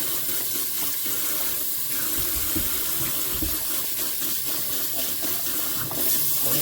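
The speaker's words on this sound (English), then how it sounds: "I'm going to prepare my potatoes. I'm just going to wash them all. Nice. Into the brush, scrubbing all the dirt off them." Tap water runs steadily into a kitchen sink while potatoes are washed and scrubbed with a brush, a continuous close splash with faint rubbing and knocks underneath.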